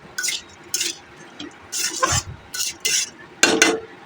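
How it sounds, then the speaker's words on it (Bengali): Spices for potato dal are stirred in a hot pan, giving short bursts of sizzling and spatula scraping in an uneven rhythm with brief quiet gaps; no one speaks. "এবার এটা নাড়াচাড়া করতে হবে যতক্ষণ তার সেন্ট না বেরোচ্ছে।"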